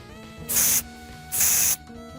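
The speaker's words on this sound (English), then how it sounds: "They suddenly sprayed a white smoke at me." Two bursts of white smoke sprayed from a can by people in protective gear in a dubbed manga scene, each a loud broadband hiss lasting about a third of a second, with a short gap between them over a low background.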